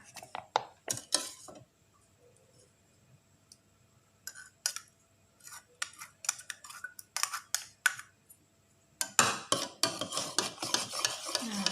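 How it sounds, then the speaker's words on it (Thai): A spoon stirs a lemon soda mixture with syrup in a glass, giving sharp clinks and scrapes in quick irregular bursts, then a denser, continuous rattle of stirring toward the end; no talk. "คนให้ส่วนผสมเข้ากันดีนะคะ"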